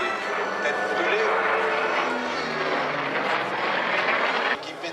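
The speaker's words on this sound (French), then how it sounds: "Le Corsair, c'est donc l'avion qui est devenu ultra célèbre à cause de la série télévisée des Têtes brûlées" An F4U Corsair warplane passes at the La Ferté-Alais airshow, its piston engine a loud sustained drone that swells and holds before dropping away abruptly near the end.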